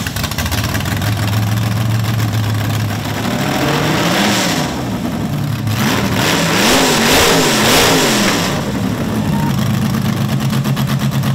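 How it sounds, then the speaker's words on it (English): A small-block Mopar late model oval racing engine in a car idling loudly, then revving up and down in several hard bursts before settling back to a rough, throbbing idle, close and dominant. "we found a small block Mopar late model roundy round racing engine, slapped that puppy in"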